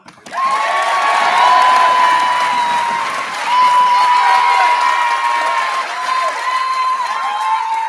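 A large crowd at a Tamarac High School graduation claps and cheers for the class of 2025, loud and sustained for several seconds, with whoops and a steady tonal note running underneath.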